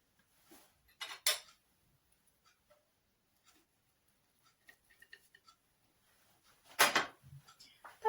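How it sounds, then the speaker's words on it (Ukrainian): An omelette is placed onto a pre-warmed plate: soft clinks and scrapes of utensils against the plate, with a couple of louder clatters and quiet pauses between, close by with no talking. "Викладаємо на тарілку попередньо підігріту."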